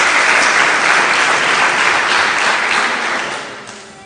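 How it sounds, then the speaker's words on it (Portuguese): A church congregation bursts into loud, dense applause, a sustained roar of many hands clapping that holds steady and then fades out over the last second, with no voices heard. "Dê uma salva de palmas a Jesus."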